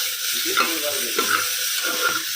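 Ginger-garlic paste sizzles steadily in a pan, with a spatula scraping through it every half second or so in a loose, repeating rhythm, close and fairly loud.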